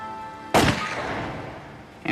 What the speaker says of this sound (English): We were out back target shooting, my .357